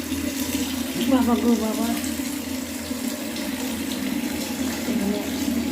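Tap water pours steadily into a bucket in a home bathroom, a continuous splashing fill, while a voice speaks briefly over it.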